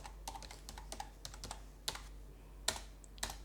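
Typing on a computer keyboard while drafting a notary document, quiet irregular clicks and taps close by in a silent room, with no talking.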